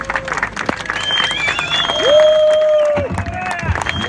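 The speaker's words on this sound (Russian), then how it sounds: "вручение меча сопровождалось шквалом оваций" Applause and crowd noise at a sword presentation ceremony, a continuous wash of clapping with a voice speaking over it.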